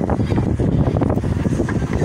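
Strong beach wind in Lazarevskoye, Sochi, blasting into the microphone as a dense, steady low rumble with no letup across the short stretch.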